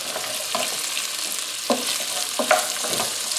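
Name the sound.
chopped onion and fennel sautéing in pan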